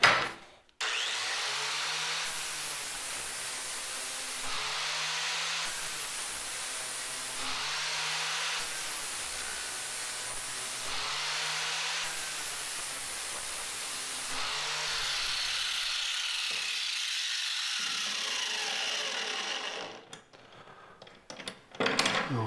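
An 80-grit flap disc grinds an Ego electric mower blade in steady, loud passes, rasping with a rising whine that repeats about every three seconds for roughly twenty seconds before the grinder cuts out.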